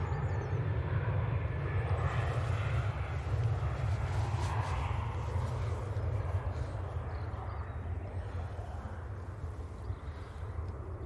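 An airliner departs Manchester Airport bound for Seville, a continuous distant engine roar with heavy low rumble that holds steady throughout, tapering slightly toward the end.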